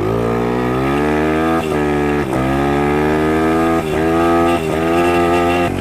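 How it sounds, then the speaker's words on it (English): A 150cc Chinese dirt bike engine revving hard and close while doing wheelies, a loud continuous buzzing drone that rises in pitch and briefly dips between pulls of the throttle. "you just want to try to do a couple of wheelies"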